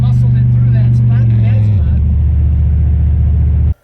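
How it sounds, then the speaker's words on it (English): Loud, steady engine and road drone inside a moving truck cab, a deep rumble that drops in pitch partway through as the engine shifts, continuous until it cuts off abruptly. "it's loud inside this truck"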